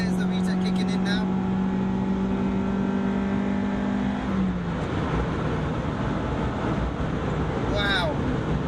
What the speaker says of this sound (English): There's the VTEC kicking in now.